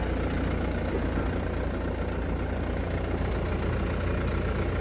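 A Mercedes C200 (W204) engine idles close by with a steady, low, constant rumbling drone, unchanging for the whole stretch and no voices over it.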